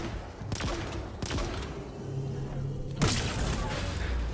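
Gunfire against fabricators in Halo Infinite: several sharp, separate shots and thuds spaced a second or so apart over droning game ambience, with a louder burst near the end.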